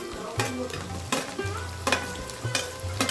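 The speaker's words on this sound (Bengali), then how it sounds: "এই ক্যাপসিকামগুলো ভালো করে একটু ভেজে নেবো।" Chopped capsicum and onion fry in a pan, a soft steady sizzle broken by several clattering stirs at regular intervals.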